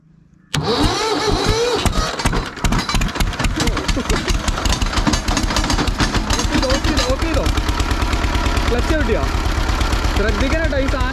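An engine cranks on its self-starter motor and then catches, settling into a steady, loud rhythmic idle, with voices talking over it.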